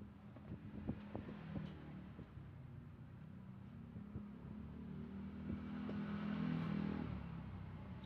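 A repaired electric fan runs on its second speed setting, giving a steady low motor hum with an airy whoosh that swells slightly toward the end. A few faint clicks sound early on.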